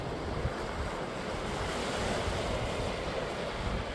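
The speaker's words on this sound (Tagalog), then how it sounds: "Ganda pakinggan yung alon" Sea waves wash steadily at Baileys Bay, Bermuda, a dense, continuous surf roar mixed with wind noise on the microphone.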